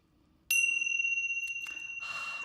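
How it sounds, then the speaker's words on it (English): A small brass bell is struck once, giving a bright sustained ring that slowly fades, followed by faint jingles and a brief rustling clatter near the end, close and clear with no talk. "I ring bells"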